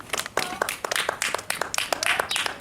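An audience at a Brussels political gathering applauds, a dense patter of many hands clapping steadily throughout the short stretch.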